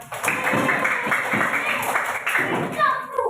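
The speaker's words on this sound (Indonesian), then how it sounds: "Tepuk tangan buat." A class of children claps hands together in a classroom, a busy, sustained patter of many hands lasting a few seconds with voices mixed in.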